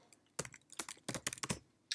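Fingers type on a computer keyboard in quick, close bursts of crisp keystrokes separated by short pauses.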